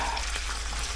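Loud, steady sizzling of canned chicken frying in hot oil over slightly too-high heat, continuous and close for the whole moment.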